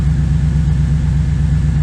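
A 1996 Chevrolet LT1 V8 with a TorqHead install idles close and steady, a low, even, slightly lumpy rumble running without change.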